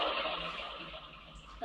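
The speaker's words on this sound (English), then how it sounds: "Pouring water." Pouring water sound effect played on a Yamaha keyboard: a steady, splashy liquid stream rushing continuously for a moment with no voices, ending in a brief louder swell.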